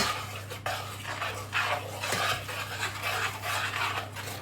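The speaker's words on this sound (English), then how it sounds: "Just give that a good stir." A spoon stirs mashed banana into banana walnut cake batter in a saucepan, producing soft repeated scraping and sloshing strokes at close range over a low steady hum.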